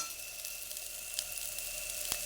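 Chopped onion and green chili hitting a pan of boiled potatoes and ivy gourd, a soft even sizzle with a faint steady hum and a couple of brief crackles.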